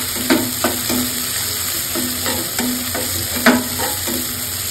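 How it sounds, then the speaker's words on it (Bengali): Chopped onions fry in hot oil in a wok with a steady, close sizzle, while a spatula stirs them in scraping strokes that recur every second or so, with no talk. "এখন আমি পেঁয়াজ কাটাগুলো দিয়ে দিচ্ছি, কাটাগুলো দিয়ে করে নেবো, নাড়াচাড়া করে নেবো।"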